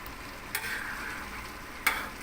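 River fish curry with fern greens stirred in a pot, a steady simmering sizzle with two brief scraping knocks of the spoon against the pot, faint and close.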